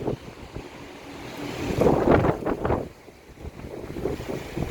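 Strong wind of about 50 km/h blows outdoors after recent rain in Salé, a steady broadband roar that swells and gusts in the middle of the clip, with no talking.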